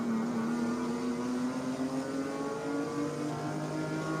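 Onboard engine note of the number 46 Ginger Racing BMW M3 race car during a World Racing League endurance race at NOLA Motorsports Park, loud and continuous, with a steady, slowly rising tone as it accelerates, and no voices.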